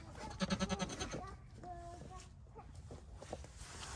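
Goats bleat near a goat shelter, a quick run of pulsing bleats followed by a longer wavering call and a few softer ones, with rustling and footsteps around them.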